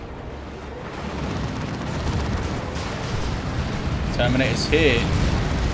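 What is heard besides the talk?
orbital bombardment explosions in Dawn of War 2 video game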